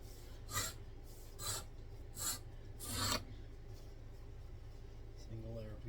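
An edge beveler is pushed along the edge of a single layer of 9-ounce leather, giving four close, rasping scrapes in a steady rhythm, then a quiet pause.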